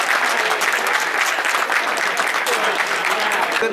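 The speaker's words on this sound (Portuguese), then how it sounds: "E uma salva de palmas," Dense applause from an audience at a Christmas trophy presentation in Amarante, loud and steady clapping sustained throughout.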